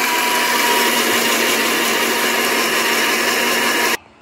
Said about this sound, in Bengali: এই মশলাটা আমি গুঁড়ো করে নিয়েছি।